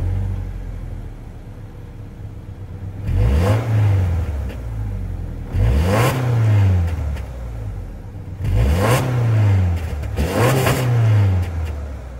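A 2024 Subaru Forester Wilderness with its 2.5-liter boxer four-cylinder engine idles, then is revved four times in two pairs, each rising to a rumbling peak and dropping back to idle. Heard up close, with no voices.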